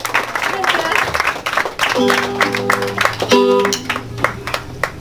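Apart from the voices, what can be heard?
applause welcoming the quinceañera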